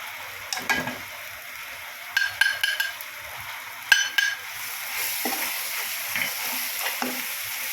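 Turmeric, coriander powder, cumin powder and homemade masala frying in a pan, a steady hiss of hot oil broken by a few close spoon scrapes and clinks against the metal.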